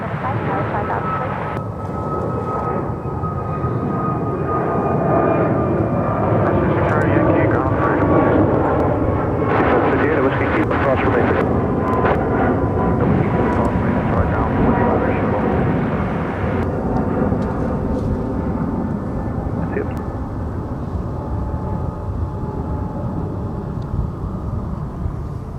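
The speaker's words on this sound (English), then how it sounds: "That was American Airlines flight 1589 heading to Los Angeles at A321neo." An American Airlines Airbus A321neo bound for Los Angeles takes off at Dallas–Fort Worth airport with a loud, sustained engine roar that swells and holds, with voices talking over it.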